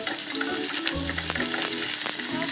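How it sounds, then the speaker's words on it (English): Chicken seasoned with salt and black pepper frying in butter in a pan, a continuous loud close sizzle with soft stirring clicks and no talk. "Fry it until it's nice"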